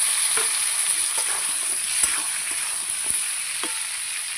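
Ridge gourd stirred and fried with onion in a pan, a steady bright sizzle of hot oil with soft scraping stirs of the spatula at intervals, close and continuous with no voices.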